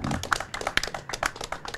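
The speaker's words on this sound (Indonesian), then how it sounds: "Tepuk tangan untuk kita semua." A small audience at a 2024 regional-election oration event gives brief, scattered applause, close and moderately loud, with individual claps landing in an irregular, sparse rhythm for under two seconds.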